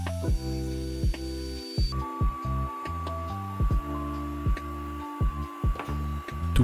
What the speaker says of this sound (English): see if we can use the heat gun to fuse two pieces of sheet back together